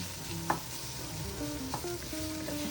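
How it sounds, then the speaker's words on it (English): Tomato paste being stirred in a hot pot of game day chili with garlic, giving a faint, even sizzle with a couple of soft spoon taps against the pot, while light tonal background sound runs underneath. "2 tablespoons of tomato paste, and then stir that around for 2 minutes"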